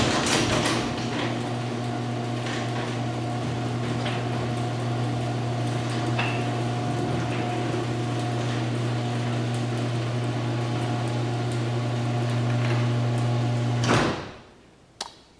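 LiftMaster 8365 garage door opener closing the door after maintenance: a steady, loud motor drone with a low hum runs continuously for about fourteen seconds, then stops abruptly, followed by a faint final clunk.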